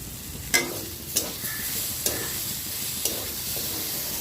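Drumstick and potato curry sizzles steadily in a pan, with a few sharp scraping stirs of a spatula punctuating the continuous frying hiss at a close distance.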